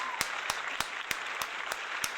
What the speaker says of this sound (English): Clap that up right quick for Suburb Baby, man.